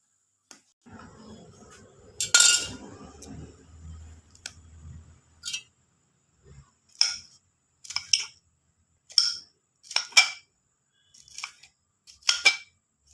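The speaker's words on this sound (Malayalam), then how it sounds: "രണ്ട് പച്ചമുളക് ചെറുതായിട്ട് കട്ട് ചെയ്തെടുക്കാം" A knife chops green chillies into small pieces on a board, giving sharp, scattered taps: an early cluster, then a run of separate crisp knocks with short gaps between them.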